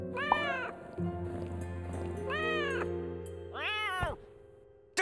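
A cat meows from inside a bag in a cartoon scene, three drawn-out, wavering meows spaced across the moment, loud and close over a steady musical backdrop.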